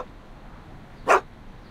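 Einstein, the dog in a video game, gives one sharp, loud bark partway through, with the start of a second at the very end over a quiet background.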